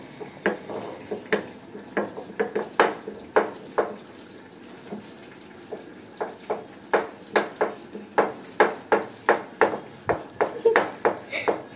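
Spices being ground by hand on a stone slab in a home kitchen, a steady series of sharp, knocking scrapes repeating close by, with a short pause partway through before the rhythm picks up again.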